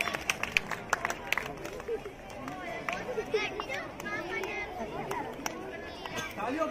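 A crowd claps in scattered bursts amid lively chatter and background hubbub, the claps sharp and close.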